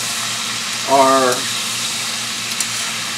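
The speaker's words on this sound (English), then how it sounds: "While this is frying up" Chicken sizzles and fries steadily in a pan for a sweet and sour Chinese dish, a constant loud crackling hiss throughout, with a brief spoken word over it.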